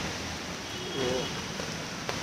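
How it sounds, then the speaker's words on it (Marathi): Heavy monsoon rain falls on a street in Thane as a steady close hiss of drops, with a brief vehicle-like swell partway through and a soft tap near the end. "पाऊस खूप पडतो आहे"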